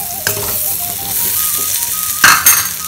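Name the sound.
stirring sundal (chickpeas) in a pan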